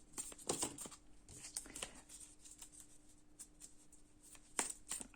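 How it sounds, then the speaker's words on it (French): Oracle cards shuffled and drawn at close range, soft quick riffling bursts and crisp card slaps scattered across the moment, fairly quiet with a faint steady hum beneath. "Je vais ressortir une autre carte quand même."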